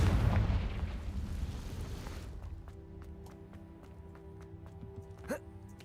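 A Confringo fire spell explodes in Hogwarts Legacy: a loud, close blast and rumbling roar fading over about two seconds, then a quieter stretch with a low hum and scattered small clicks and one brief pop.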